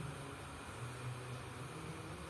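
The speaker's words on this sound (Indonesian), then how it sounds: "Nah, maka kipas akan hidup. Itu terdengar suaranya." The internal cooling fan of an Android car head unit running, a faint, steady whir with a low hum beneath it, unchanging throughout.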